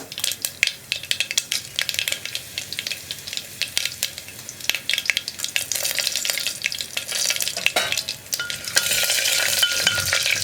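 Spices and three dried red chillies splutter in hot oil, a dense, close run of sharp pops and crackles with irregular bursts, building louder toward the end; no speech.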